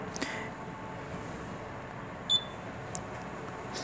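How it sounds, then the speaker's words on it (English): A short, faint electronic beep from a door sensor's buzzer sounds once, followed by a fainter brief chirp, over a quiet background hum. "the buzzer has also sounded"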